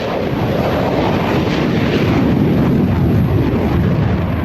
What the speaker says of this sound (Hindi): 5वीं पीढ़ी का F-35 लड़ाकू विमान हवा में हुंकार भरते हुए दुश्मन को तबाह करके वापस आ सकता